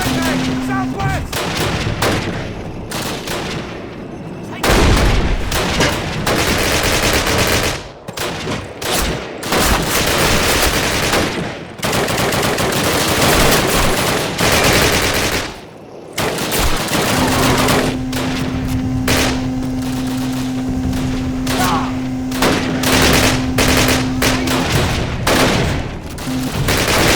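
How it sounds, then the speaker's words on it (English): Loud, dense gunfire and machine-gun bursts from the video game Call of Duty 1 keep going almost without a break, with booms mixed in and a brief lull partway through. "Fire at will!"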